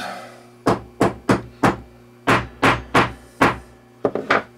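A hammer tapping a .22 caliber blank down into a cartridge over flat steel, about eleven sharp close knocks in an uneven rhythm, some single and some in quick pairs, with no voices.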